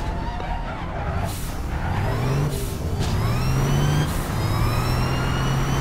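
A car engine in the video game APB Reloaded revs and accelerates, its pitch rising through several climbs and dropping between gear shifts, loud and alone.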